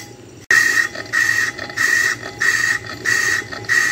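A brake rotor with rough backsides being machined in light cuts, giving a steady run of repeating whirring, scraping pulses about every half second, close and fairly loud with no talk.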